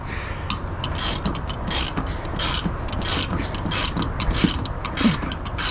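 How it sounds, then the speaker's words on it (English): Ratchet wrench turning bolts on a 2016 Peterbilt 579 drop visor, rapid repeated clicking bursts of the pawl in close succession, loud and near with no talking. "you're going to have to use a ratchet wrench. Will be your easiest method to get those."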